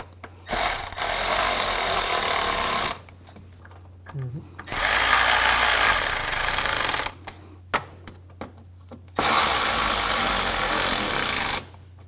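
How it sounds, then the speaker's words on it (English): Screws are driven into the radiator and condenser fan assembly of a 2004-2009 Audi A4, heard as three loud bursts of whirring tool noise, each lasting a few seconds, separated by quieter pauses. "Snug down the screws on the side"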